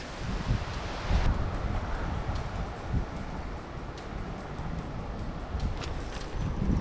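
Wind blows steadily across a lake during carp fishing, a broad gusting rush with microphone buffeting that swells and eases, loud and close with no talk.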